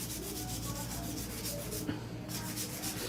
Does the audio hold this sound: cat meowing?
no